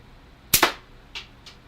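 A gun fires at small plaster of Paris ghost targets in a basement, one sharp close shot followed by two fainter, shorter cracks or impacts.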